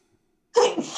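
A single sudden, loud human sneeze bursting out after near silence, close to the listener.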